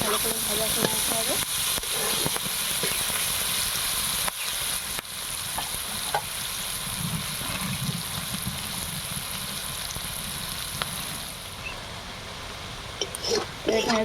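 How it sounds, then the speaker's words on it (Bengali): Sliced onion frying in oil with cloves and cinnamon, a constant close sizzle with occasional stirring scrapes, fading a little toward the end; no speech is heard over the frying. "পেঁয়াজটা ভালো করে ভাজা করে নিতে হবে"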